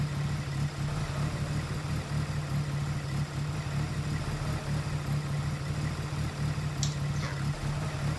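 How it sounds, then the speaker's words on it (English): Car engines before a mountain race, a steady low engine hum holding a constant pitch throughout with no clear rise in revs, plus a faint short chirp near the end. "They revved their engines as Bob walked up to count down to the start."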